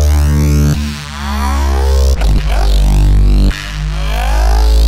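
A bass instrument plays steady, loud low notes with a strong sustained low end, shifting pitch at a few points across the phrase and heard alone with no voices.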